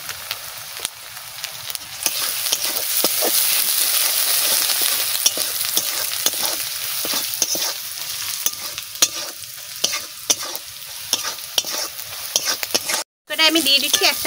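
Spices with turmeric, salt and chili powder are sautéed together in a pan, giving a continuous loud sizzle broken by frequent sharp stirring scrapes and clacks, with a brief dropout near the end.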